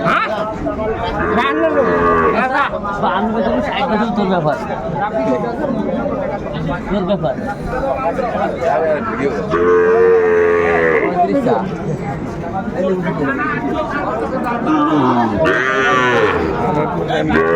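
Sahiwal bulls at a livestock market in Sirajganj moo loudly and repeatedly, with long, drawn-out calls rising over the constant chatter and bargaining of a busy crowd.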